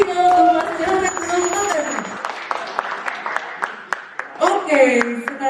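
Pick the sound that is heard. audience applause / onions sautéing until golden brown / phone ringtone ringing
audience applause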